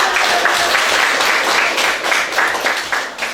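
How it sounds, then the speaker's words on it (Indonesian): Students in a vocational school classroom applaud a group that has just presented on making transparent soap, a dense, bright burst of clapping that stays steady and close for a few seconds, with a little talk underneath. "Tepuk tangan dong buat teman."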